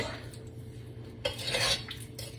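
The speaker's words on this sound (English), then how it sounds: "We're going to stir this up and I'm going to bring it to a little boil." A pot of blueberry jam with sugar and fruit pectin is stirred, with a low kitchen hum and then louder scraping and clinking of the spoon against the pot in the second half.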